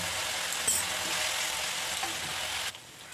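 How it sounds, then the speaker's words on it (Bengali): Onion, garlic and ginger paste fries in a pan for a curd katla fish curry, an even, moderately loud sizzling hiss that cuts off abruptly near the end. "এবার পেঁয়াজ রসুন আদার পেস্টটা আমার অনেকটা ফ্রাই হয়ে গেছে"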